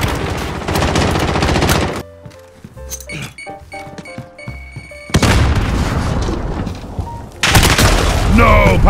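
Gunfire in the shooter game Call of Duty Modern Warfare, loud bursts of rapid shots and heavy booms, broken by a quieter stretch of scattered metallic clanks and thuds before the shooting roars back.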